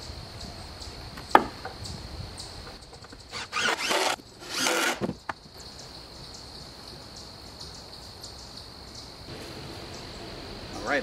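Power drill driving 3.5-inch deck screws through two wooden studs into supports on a chicken coop wall frame, a few short bursts of whirring and grinding between quiet pauses, with insects chirping steadily outdoors.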